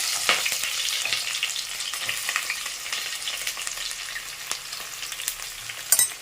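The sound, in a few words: small onions frying in hot oil with mustard seeds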